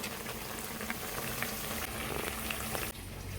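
Sliced onions sauté in hot oil with fenugreek seeds and peeled garlic cloves, making a steady, close, continuous sizzle and bubbling with no voices.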